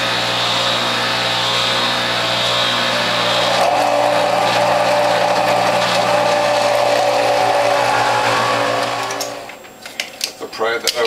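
A juicer grinds and presses sections of gobo root, a loud steady mechanical drone with a motor whine that shifts midway before cutting out near the end into a few scattered knocks.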